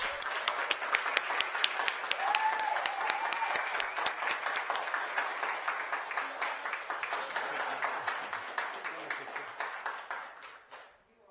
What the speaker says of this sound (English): Let's give a round of applause to Miss Tony Bowers.